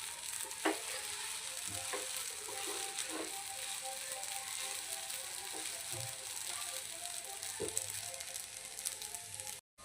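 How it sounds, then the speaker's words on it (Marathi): Sago khichdi with potato masala is stirred in a frying pan, a soft continuous sizzle broken by repeated scraping strokes of the spoon, close and moderately quiet. "छान आपलं बटाट्याचा मसाला सर्व बाजूला आपल्या साबुदाण्याला लागला पाहिजे, अशा पद्धतीने हा मिक्स करून घ्यायचा आहे"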